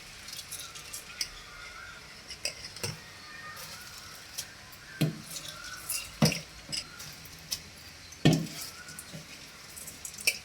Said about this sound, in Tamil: ஆல்ரெடி வாஷ் பண்ணி ஊற வச்சுருக்க இந்த அரிசியை போட்டுக்கலாம்.